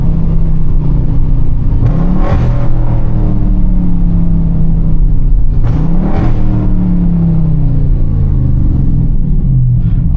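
A tuned Dodge 392 Scat Pack accelerates hard, its V8 roaring loud and close from inside the cabin, with revs climbing in two pulls separated by a quick gear shift near redline.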